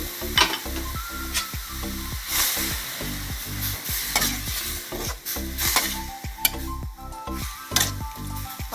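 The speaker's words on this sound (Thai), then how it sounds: "คลิกแกงเดือดแล้วนะคะ ใส่หมู ลงไปเลย" Pork stirred into boiling Thai jungle curry with straw mushrooms and Thai eggplant, a steady bubbling sizzle under repeated close spoon scrapes and clinks against the pot, loud and continuous with no voices.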